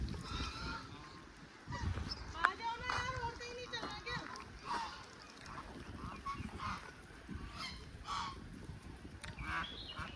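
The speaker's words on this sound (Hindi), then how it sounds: "डक है।" Ducks calling on Nakki Lake at Mount Abu, Rajasthan, India: repeated honking, quacking calls come in irregular bursts over a constant murmur of people and children talking nearby.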